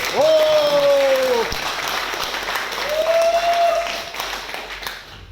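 A training session audience breaks into loud applause, close and dense, with drawn-out whooping voices rising over the clapping before it thins out.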